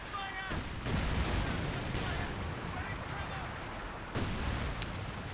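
Mortar Pit heavy barrage from Company of Heroes 2, a few dull explosive impacts thudding at moderate distance beneath continuous battle noise and a commentator's voice.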